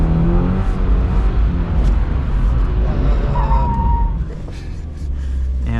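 A 2022 Subaru BRZ spins out while drifting through a figure eight, its engine roaring loud and steady close by, with a brief tyre squeal near the end and the revs dipping as the car comes around.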